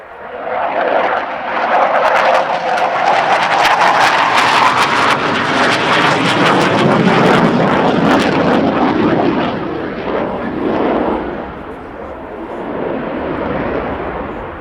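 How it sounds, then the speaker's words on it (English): A Boeing E-7 Wedgetail, the airborne early warning 737-700 variant, flies in with the Red Arrows jets at an air show, making a loud, sustained jet roar that swells and fades slowly with crackling engine noise throughout. "Boeing's E-7 Wedgetail, airborne early warning and control variant of the 737-700. Here they come, in from the right, the Wedgetail and the Red Arrows."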